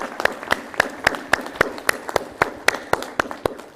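Conference audience at a G20 standards dialogue clapping in a slow, steady, synchronized rhythm, roughly a dozen distinct, evenly spaced claps.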